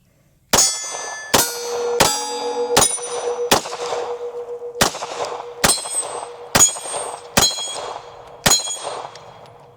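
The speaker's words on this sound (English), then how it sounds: "I'm gonna shoot the Glock 17 first just to compare the recoil" Glock 17 pistol fired at a range, ten sharp loud shots spaced roughly a second apart, each with a metallic ringing tail, no voices.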